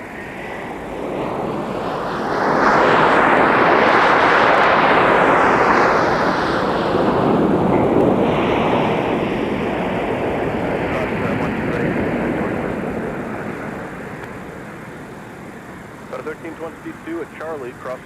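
An airliner takes off from runway 17 at Minneapolis–St. Paul airport in winter, its jet roar swelling loud and broad, peaking mid-clip, then slowly fading into the distance; faint talk comes in at the very end.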